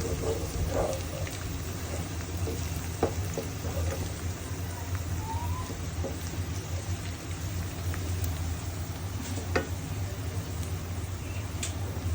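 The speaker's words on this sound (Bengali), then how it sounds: "একটু তেলে ভেজে নিচ্ছি সুন্দর করে" Pieces of desi chicken deep-fry in plenty of oil for biryani, producing a steady, moderately loud bubbling hiss throughout with a few faint clicks and knocks scattered over it.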